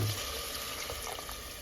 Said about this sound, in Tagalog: Ngayon lalagyan na natin siya ng tubig